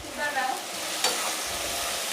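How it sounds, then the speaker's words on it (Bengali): Onions fried with ginger and garlic paste sizzle steadily in a pan while a spoon stirs them with scraping strokes, close and moderately loud, with no voices. "দিয়ে এটাকে নাড়বো, ভাজা ভাজা করবো, একটু কাঁচা স্মেলটা যাতে চলে যায়।"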